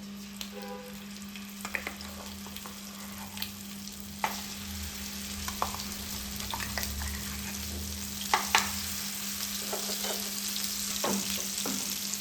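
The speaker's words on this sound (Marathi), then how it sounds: "हे वाटण आपल्याला व्यवस्थित फ्राय करून घ्यायचं आहे." Masala paste fries in hot oil in a pan, a continuous close sizzle with scattered sharp crackles and occasional stirring scrapes under a steady low hum, with no talking.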